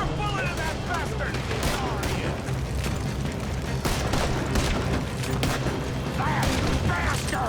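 Gunfight in the video game Red Dead Redemption 2, repeated gunshots cracking through a dense, noisy battle mix at steady loudness, with shouting voices in places.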